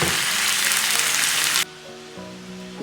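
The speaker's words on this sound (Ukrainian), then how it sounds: "Тепер до цибулі додаю гриби. Піджарюю і додаю сметану." Mushrooms and onion frying in a pan give a loud, steady sizzle for about a second and a half, then it cuts abruptly to a much quieter, softer hum.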